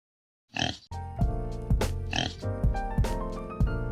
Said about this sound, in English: The pig grunts or oinks.